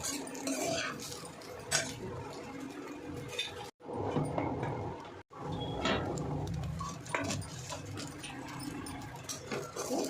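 Spoon stirring egg rice in a pan: irregular metallic scrapes and clinks repeat close up, with two brief pauses in the stirring.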